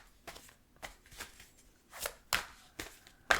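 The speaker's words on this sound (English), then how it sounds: "I feel intuitively drawn to keep shuffling until a card gets spit out." Tarot cards are shuffled in a quiet room, a series of crisp riffling bursts at a loose, uneven rhythm, close and fairly soft with brief gaps between them.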